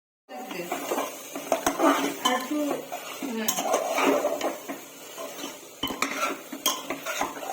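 Mutton being stir-fried in a pressure cooker pot with potatoes already fried, a spoon repeatedly scraping and clanking against the metal in busy, irregular strokes, close and loud, with faint sizzling beneath.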